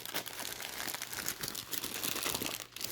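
A well-wrapped parcel being torn open by hand: dense, continuous crinkling and ripping of packaging, close and fairly loud throughout, with no talking.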